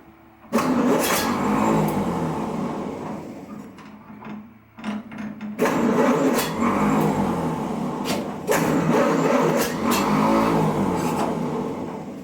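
A 1930 Ford Model A pickup, off the road for decades, cranks and catches, its engine revving loudly and unevenly near the microphone with a brief stumble partway before roaring again.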